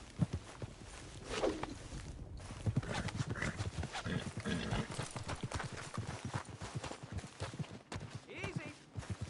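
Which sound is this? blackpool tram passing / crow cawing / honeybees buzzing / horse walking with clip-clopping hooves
horse walking with clip-clopping hooves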